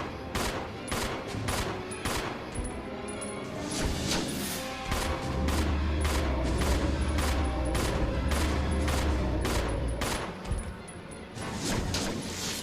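Rapid gunfire rings out in the survival horror game Resident Evil 0, a long run of sharp, loud shots spaced in quick bursts, with an underlying rumble and brief gaps between volleys.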